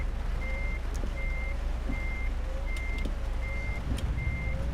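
A truck in the Euro Truck Simulator 2 video game reverses toward a trailer, its backup alarm beeping in a steady, evenly spaced series of about six beeps over a low engine idle.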